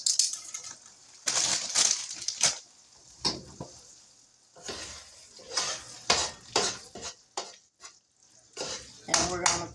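Doritos tortilla chips laid by hand into a casserole pan sprayed with nonstick spray, giving crisp crinkling and rattling crunches in irregular bursts with quiet gaps between, close up and without talk.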